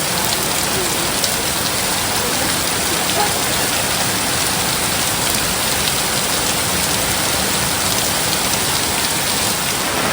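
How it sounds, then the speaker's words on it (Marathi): Heavy rain pours steadily in the Konkan countryside, a dense, unbroken hiss of drops that stays loud and even from start to finish, with no voices over it. "आणि पाऊस बघा मस्त आलाय जोरात, जसा पाहिजे तसा."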